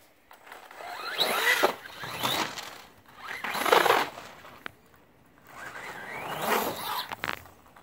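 A brushless Haiboxing 2995 RC car on paddle tires, with a 120 amp 2-4S ESC and 3650 4370kv motor, tears through deep, soft snow. Its motor gives three close, rising and falling whining bursts with short lulls between.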